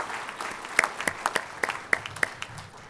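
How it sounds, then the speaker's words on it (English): Scattered clapping from a graduation ceremony audience for Biological Systems Engineering graduates, a sparse, moderately distant patter of individual claps. "Let's give our graduates a big round of applause from Biological Systems Engineering."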